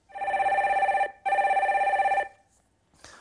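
A telephone rings for a radio call-in line, two long electronic rings with a short gap between them, loud and close, then near silence.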